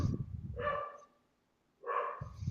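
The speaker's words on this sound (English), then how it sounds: "A dog, literally the size of a soda can, is walking by outside right now" A tiny dog, about the size of a soda can, yaps outside as it walks by: two short bursts of barking a moment apart, moderately close, with no talking.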